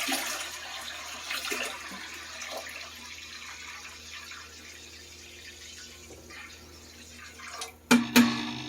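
Warm tap water poured from a bottle into a canning pot, a steady broadband splashing and trickling that runs throughout, ending in a couple of sharper clunks near the end.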